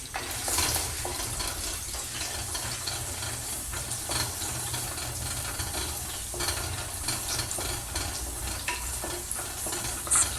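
Steady sizzling of ginger and garlic frying in hot oil, a continuous crackling hiss close by with occasional stirring scrapes, no voices.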